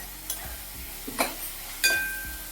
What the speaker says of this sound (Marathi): टोमॅटो घातल्यानंतर एक दोन मिनटं छान परतलंय